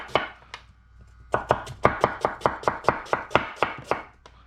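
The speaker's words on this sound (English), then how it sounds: "Not the easiest cut to do, but it'll save you a ton of time prepping onions" A knife julienne-cuts large bulb onions on a cutting board. A few separate chops come first, then a steady, fast run of about a dozen crisp, close knocks. No talking.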